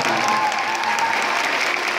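Audience applause at an NC Dinos baseball fan town hall meeting, a steady dense clatter of many hands filling the room, continuous and even.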